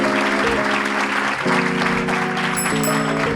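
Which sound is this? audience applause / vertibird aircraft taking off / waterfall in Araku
audience applause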